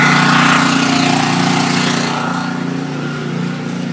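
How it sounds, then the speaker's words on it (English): A portable generator engine runs with a loud, steady droning rumble and a faint rapid chug, holding even throughout and gradually settling a little quieter as it idles. "Generator on. Choke on. Leave it a second to choke. Alright, now let's flick it on."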